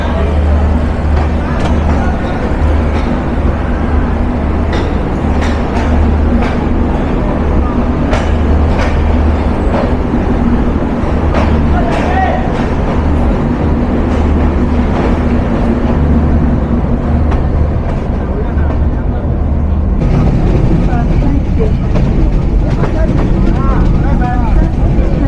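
The Madhumati Express passenger train pulls away from a station stop in Bangladesh, its carriage filled with a loud, steady rolling rumble that intensifies toward the end, with a voice talking over it.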